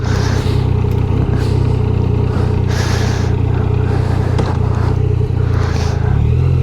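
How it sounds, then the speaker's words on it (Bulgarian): A 2015 Yamaha MT-09 Tracer rides through town, its engine a loud, steady drone with wind rush and small swells in revs throughout. "мотора, който караме, Tracer MT-09 Tracer 2015 година"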